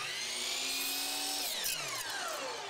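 A miter saw whines at high speed through foam crown molding, the motor pitch steady and loud before dropping as the blade slows and spins down near the end, with no talking.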